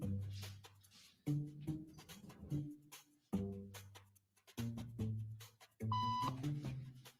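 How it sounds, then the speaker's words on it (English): Electronic beep tones sound during a social conformity experiment in a waiting room, a few short tonal bleeps amid low background murmur and movement, one clearer high tone near the end. "Beep means stand up."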